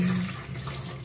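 Water poured into a cooking pot of bulalo, a steady splashing gush lasting about a second, close and alone.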